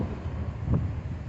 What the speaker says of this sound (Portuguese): O vento chega a estar me arrastando.